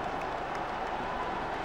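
Football supporters in a stadium applauding a Norwich City goal against Colchester, a steady, diffuse wash of crowd clapping and noise heard from afar.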